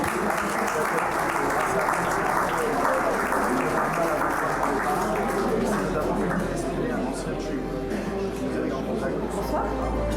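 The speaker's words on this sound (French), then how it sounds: "Vous pouvez l'applaudir plus fort." Sustained applause from a large audience at a press and media innovation awards ceremony, dense steady clapping filling the hall at an even volume throughout.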